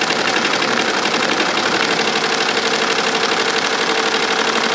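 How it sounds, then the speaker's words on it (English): A 15-needle SWF embroidery machine stitches a jacket at about 700 RPM, giving a steady, loud, continuous mechanical whir and clatter with no talk. "embroidering at about 700 RPMs. We're on a 15-needle SWF machine."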